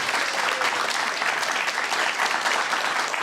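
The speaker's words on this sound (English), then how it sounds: "A big round of applause." Sustained applause from a roomful of people at a Guide Dogs for the Blind graduation ceremony, honoring the puppy raisers; many hands clap steadily and fairly loudly, without speech over it.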